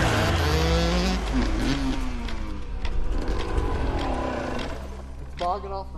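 A race car engine at a drag racing event bogs off the bottom, a loud, rough, wavering roar that stutters and struggles to climb, with a voice speaking over it.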